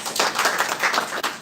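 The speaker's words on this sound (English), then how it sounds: "Please just give a round of applause for Mr." An audience claps for a speaker introduced at a live launch event in Zimbabwe, a steady round of many hands with clear individual slaps, sustained throughout.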